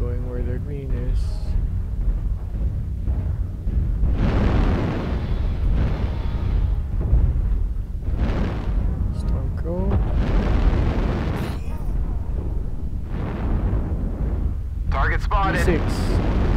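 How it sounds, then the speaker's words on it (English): An artillery strike in a mech combat video game sets off a string of heavy booming explosions, each with a rumbling tail, while a player talks over the blasts. "Artillery strike online."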